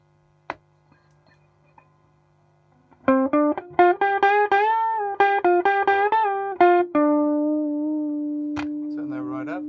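After a few faint clicks, an electric guitar plays a quick run of picked notes through an amplifier with crunchy overdrive, ending on a long sustained note.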